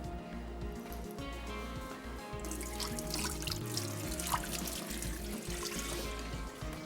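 Water running from a kitchen tap during cooking of an arvi gosht dish, a quiet steady trickle and splash with a low hum underneath, no talk.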